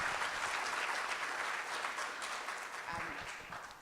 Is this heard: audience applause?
yes